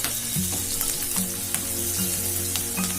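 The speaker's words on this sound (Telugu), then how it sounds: "ఇప్పుడు గ్రీన్ చిల్లీస్ కూడా యాడ్ చేసుకొని మంచిగా ఫ్రై చేసుకుందాం" Green chillies and garlic fry in hot oil for spicy garlic coriander chicken, giving a dense close sizzle and crackle with occasional spatula taps and stirring scrapes.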